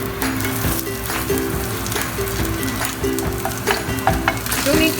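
Garlic sizzling in hot oil with mustard and cumin seeds, a close, steady frying hiss with light stirring scrapes and occasional pops.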